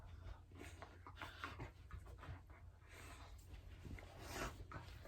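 Dogs on a bed panting and scuffling in play, soft rapid breaths with rustling of bedding and small snorts, faint and close, no voices.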